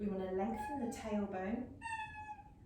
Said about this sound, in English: I apologise, that's my cat, you can hear.